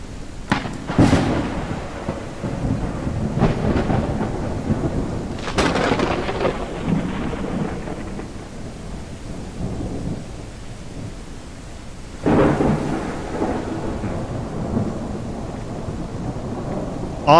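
Video game thunderstorm: heavy rain pours steadily while several loud rumbling thunderclaps roll through, one after another, with no voices.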